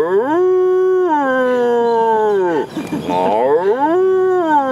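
Loud, close, drawn-out dog howls rise and fall in long wavering tones, with a brief break and a strained dip in the middle before another swelling howl.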